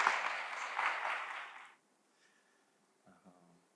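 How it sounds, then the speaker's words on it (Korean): A church congregation applauds a deacon as he comes forward. The crowd clapping is dense and lively for nearly two seconds, then stops abruptly, leaving near silence and a faint voice. "우리 나오실 때 우리 박수로 격려하도록 하겠습니다."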